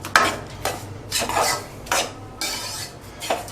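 A spoon stirs ground magaz mixed with powdered sugar and cardamom in a bowl for a traditional Rajasthani sweet, giving several scraping, rubbing strokes at an uneven rhythm, close and moderately loud with no talk.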